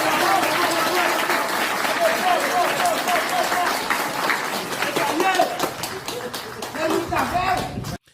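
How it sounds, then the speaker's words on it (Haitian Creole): A crowd at an outdoor political gathering breaks into sustained applause, a loud, dense wash of clapping that thins toward the end into scattered individual claps, with voices mixed in. "Population, bat bravo."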